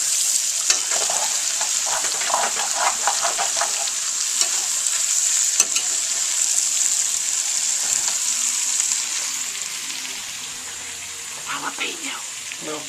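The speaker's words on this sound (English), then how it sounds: "We're going to scrape the bottom now because we've browned everything and made a little crusty bottom." Browned potato hash being stirred and scraped across the bottom of a pan, with steady sizzling and repeated scratchy scraping strokes, close and fairly loud, easing slightly toward the end.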